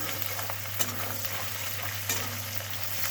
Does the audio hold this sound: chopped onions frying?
yes